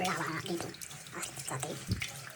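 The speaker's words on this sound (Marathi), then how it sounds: "तांदूळ थोडे धुवून घ्यायला पाहिजेत" Rice is washed in water, with soft sloshing and splashing as the grains are stirred, partly under a person's talk.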